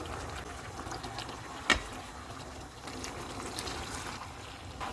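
Fried chicken simmers in a chilli chicken sauce over medium-high heat, a faint, steady low bubbling with one short sharp click partway through and no talking.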